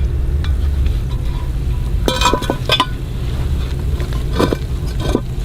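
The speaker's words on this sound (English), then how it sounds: "when it comes down to frying things, most of it's not a time frame deal, it's a coloration deal" Steady low sizzle of rattlesnake frying in hot oil, with occasional clinks and stirring sounds of utensils against a pan.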